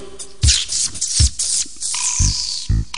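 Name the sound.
voice imitating a mouse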